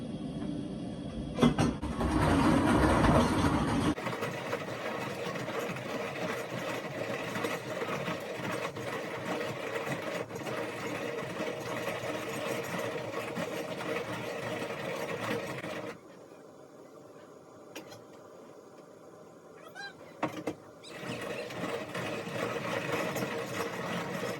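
A grain mill grinds corn into grits in a kitchen with a steady, close mechanical whir. It starts with a louder burst, drops quieter for a few seconds near the end, then picks back up.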